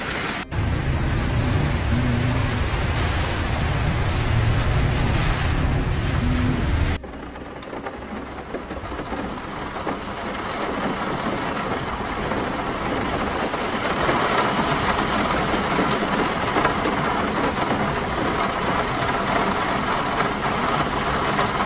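Steady, heavy rain in the Philippines roars as a dense wash of noise, loud and close at first, then continuing as a constant downpour with no voices.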